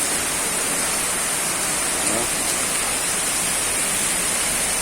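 Floodwater rushing through city streets during a flood in Volta Redonda, a steady broadband roar of flowing water that stays constant and close throughout, with no voices.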